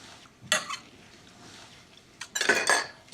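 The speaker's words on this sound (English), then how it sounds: "Moving our lobster around a little bit in there." Metal utensils scrape and clink against a pot as a lobster is moved around in creamy lobster broth held hot below a boil, a short stir followed by a longer burst of scraping, close and moderately loud, with no talk.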